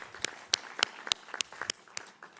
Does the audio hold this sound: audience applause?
yes